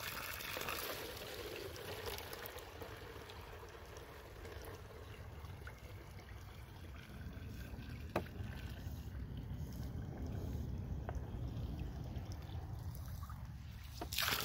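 Water from a DIY 24-volt solar well pump filling an empty gallon jug outdoors, a steady broadband rush of pouring water running continuously and close, with no talk over it.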